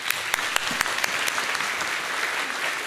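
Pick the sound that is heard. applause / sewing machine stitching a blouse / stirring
applause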